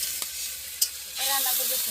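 Flat beans and peas sizzle in a frying pan, a steady hiss broken by a couple of sharp utensil taps, heard close with faint background sounds.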